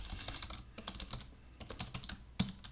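Quiet, irregular key taps on a Mac computer keyboard enter a password, in short clusters with small pauses, close by and alone.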